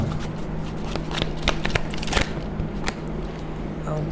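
Tarot cards are shuffled and drawn by hand, giving a run of soft papery riffles and flicks with a steady low hum beneath, while a voice talks over part of it.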